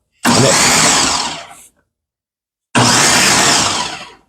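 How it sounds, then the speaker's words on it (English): Homegrown tomatoes being chopped for homemade canned salsa make two loud, close whirring bursts of about a second and a half each, separated by a short silent pause. "This is just me chopping up the tomatoes."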